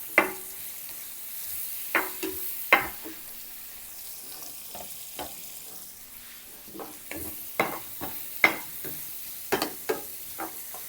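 Onion frying in a pan for pork caldereta, a soft steady sizzle broken by a dozen or so sharp spatula clinks and scrapes as it is stirred, no talking.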